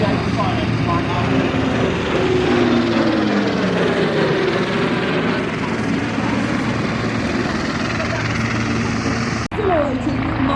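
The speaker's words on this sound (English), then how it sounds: "Here it is, ladies and gentlemen, the Poseidon Flypast." A Royal New Zealand Air Force P-8 Poseidon makes a flypast at an airshow, its engine roar loud and steady throughout with a rising and falling whine, while an announcer's voice comes over the crowd.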